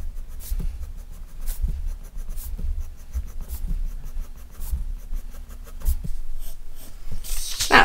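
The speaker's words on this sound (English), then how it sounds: "if we draw lots of little lines and turn the paper as we go" A pen scratches out many quick little lines on paper while the sheet is turned, making a steady run of short scraping strokes over a low background hum.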